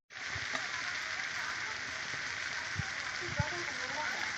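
Cauliflower frying in a pan with potato and tomato, a steady broadband sizzle throughout with a couple of faint soft knocks partway through.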